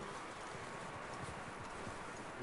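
Faint, steady clip-clop of a horse's hooves in the open-world western game Red Dead Redemption 2, under a constant wash of ambient noise with no talking.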